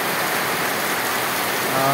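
Steady, dense rainfall patters on surfaces nearby, a continuous even hiss with no voices.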